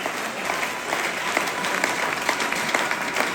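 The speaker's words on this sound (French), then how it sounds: "Applaudissez pour le pasteur." Steady, moderately loud applause from an audience at a church gathering, clapping for a pastor, continuous throughout with scattered individual claps standing out.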